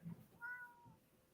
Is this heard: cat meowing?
yes